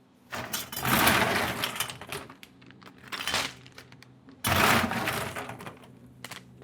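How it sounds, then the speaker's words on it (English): Two bursts of hard clattering and cracking, like ice cubes tumbling into a plastic bag, each pour followed by smaller rattles and rustling. "fill it with regular ice cubes you get from the shop or you get out your fridge"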